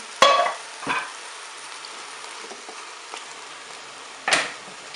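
Carrots and peeled tomatoes hit hot fat in a Cookeo cooker, setting off a loud sizzle, then a second smaller one, then a steady quiet frying hiss. Near the end comes one more burst of sizzling.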